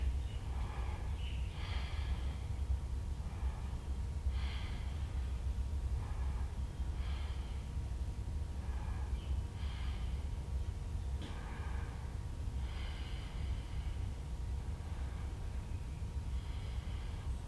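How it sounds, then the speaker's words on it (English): Deep, slow breaths during a yoga class, each soft breathy rush recurring roughly every two to three seconds, faint and steady over a low background hum. "5 deep breaths here."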